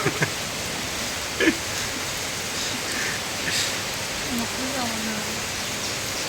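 Monsoon rain falls in Nalasopara, Mumbai, a steady broadband hiss of downpour filling the whole stretch, with a faint voice briefly audible beneath it.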